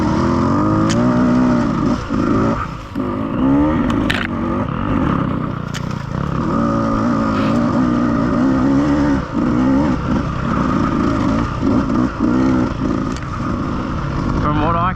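Husqvarna and BETA dirt bike engines revving and blipping continuously while riding fresh trail tracks, a loud close buzzing two-stroke-style drone with repeated throttle changes throughout.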